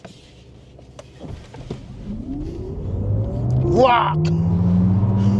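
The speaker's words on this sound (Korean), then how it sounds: "여기서 코르사로 두고 한번 정지 가속을 해보죠." A Maserati electric car accelerates hard from a standstill in Corsa mode, its motor whine rising in pitch over a building road rumble, heard from inside the cabin, with a voice exclaiming partway through.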